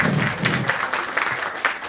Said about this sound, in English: Please, a round of applause, please.